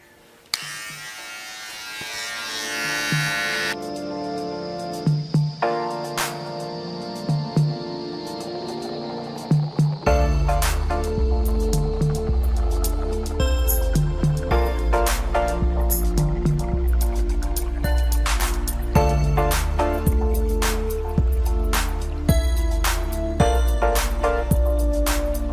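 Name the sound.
Philips BT1215 trimmer trimming beard at 3 mm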